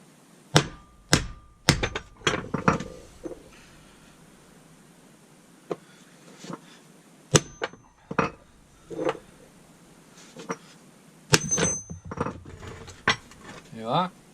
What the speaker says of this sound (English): then we'll just smack it out with the hammer